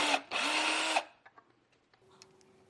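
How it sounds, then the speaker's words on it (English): A power drill with a 3/32 bit bores pilot holes for mounting cellular window shades, one short whirring burst up close followed by faint clicks and handling noises. "For this, I'm using a 3/32 drill bit for the pilot holes."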